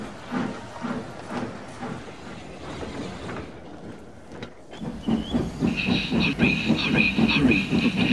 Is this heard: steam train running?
yes